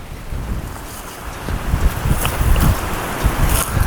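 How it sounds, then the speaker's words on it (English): Strong wind buffets the microphone on an exposed, steep hilltop, a steady rumbling roar with gusts swelling and fading throughout, no voices. "it's really windy up here"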